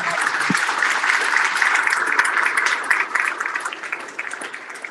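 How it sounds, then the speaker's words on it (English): Applause from a conference audience: dense, sustained clapping that stays loud for several seconds, then gradually thins and fades toward the end. "I want to give them a big round of applause"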